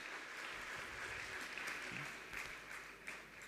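An audience claps to welcome the organisers at a Jain monk's question-and-answer gathering. The crowd applause is sustained and even, moderately distant and fairly quiet, a continuous patter of many hands.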